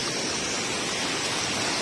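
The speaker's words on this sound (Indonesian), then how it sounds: "Dan ini air terjunnya" A waterfall near hot springs roars as a loud, dense, unbroken rush of falling water, close and steady with no other sounds over it.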